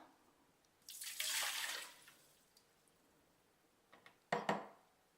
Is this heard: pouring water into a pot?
yes